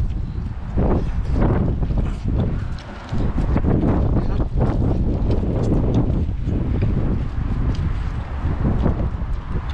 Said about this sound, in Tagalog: Mahangin na naman ngayon.